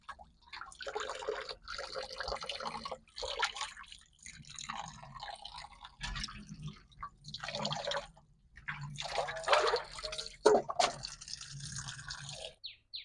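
Freshly cut river fish being rinsed clean with water, producing irregular splashing and dripping bursts with short pauses, close by and moderately loud.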